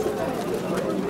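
Rampuri pigeons at a busy pigeon market in Galiff Street, Kolkata give a soft, low cooing murmur under the nearby chatter of people talking.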